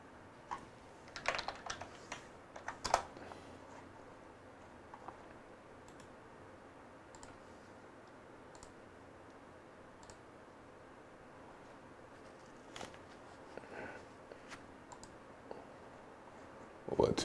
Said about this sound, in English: You can go type this in right here.